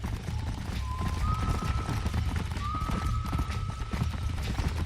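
Horse hooves clip-clop at a steady trot in Red Dead Redemption, the rhythmic clopping continuous and close over a low rumbling game ambience with a few thin whistling tones.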